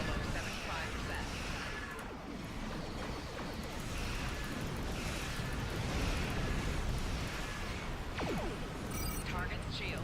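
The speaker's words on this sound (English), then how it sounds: "Those are powerful torpedoes." Heavy torpedo impacts batter a starship's shields in a space combat video game, loud rumbling explosions and crashing bursts layered continuously over busy game effects, with a voice speaking throughout.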